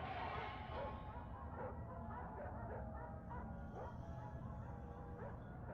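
A dog in a video game barks in short yips and whimpers repeatedly over a low, dark ambient drone, the calls recurring at irregular intervals and fairly close.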